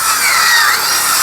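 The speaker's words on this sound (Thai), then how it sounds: "บ่ต้องมีเลื่อยมีหยังเนาะมีใส่วงเดือนเลยปาดไม้ก็ได้" A power tool fitted with a circular saw blade cuts into wood, a loud steady high-pitched whine heard close up without pauses.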